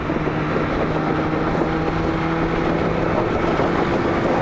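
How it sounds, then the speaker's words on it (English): Strong wind buffeting the microphone during a motorcycle ride in Houston, with a constant loud roar and the engine's steady hum running underneath, no talking. "Oh, this wind."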